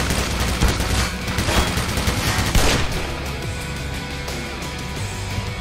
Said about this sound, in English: There's the sentry gun.